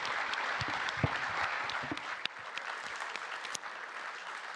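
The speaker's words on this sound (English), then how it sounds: "Could you give the fantastic panel a big round of applause?" Conference audience at a bio-based products event applauds a panel with steady, dense clapping from a full hall throughout, a few sharper claps standing out near the front.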